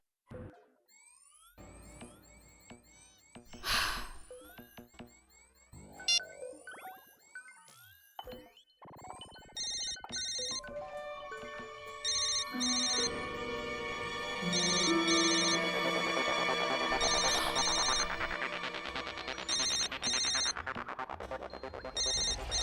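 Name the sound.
mobile phone ringing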